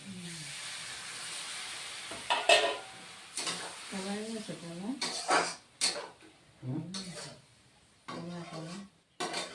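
Bathua greens sizzle in a pan once a little water goes in, a steady hiss with stirring clatter running beneath intermittent talking.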